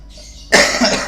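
A single harsh cough bursts out after a brief quiet moment, close and loud.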